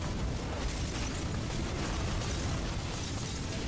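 Continuous loud, dense rumbling blast of a napalm explosion in the video game Girl Cafe Gun, a steady wall of fiery burst noise lasting throughout with no pauses.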